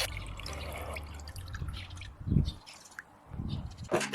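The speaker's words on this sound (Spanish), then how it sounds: "Coloca el rodillo sucio dentro de la botella y enjuágalo bajo presión de agua a través de la abertura" Water runs and splashes as a dirty paint roller is rinsed inside a plastic bottle, with soft gurgling drips and a few louder wet bursts against a quiet, close background.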